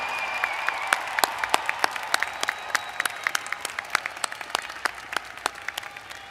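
Applause for new graduates at a university spring commencement, a steady wash of many hands clapping with sharp individual claps standing out, even and continuous throughout.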